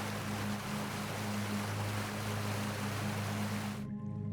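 A Maine river waterfall churns foam in a steady, loud, broadband rush of falling water that stops abruptly near the end.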